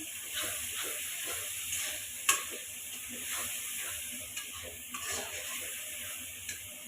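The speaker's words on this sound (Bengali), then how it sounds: "এই যে মশলাটা কষানো হচ্ছে।" Spice paste for beef curry sautés in a pan, giving a faint, steady sizzling hiss broken by a few small pops and clicks, heard alone and at a low level.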